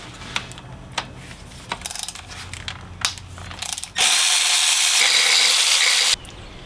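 Ratchet with a 10mm socket loosening turbocharger nuts on a Chevrolet Cruze 1.4, heard as a few short bursts of quick clicking followed by a loud, steady two-second rasping burst at close range.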